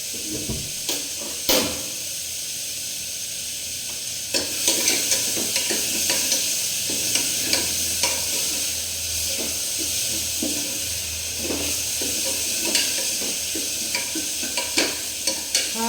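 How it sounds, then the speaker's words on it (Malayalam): Ginger, garlic and shallots sizzle steadily in a hot pan on low flame while a spoon scrapes and clinks against it in an irregular stirring rhythm, close up, with no talking. "നന്നായിട്ട് ഇളക്കാം."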